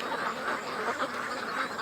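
A group of ducks quack in a dense, continuous chatter at close range, with no voices over them.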